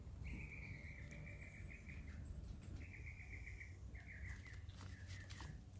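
Faint, repeated trilling calls of rain birds ring out in Jamaica over a steady background hum of insects and crickets.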